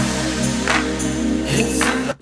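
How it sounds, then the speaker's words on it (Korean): Swelling noise FX sweep side to side over a steady synth-bass house groove in a remake of Disclosure's Omen, loud and dense, cutting off abruptly at the end. "왔다 갔다 하는 이런 노이즈 들리시죠?"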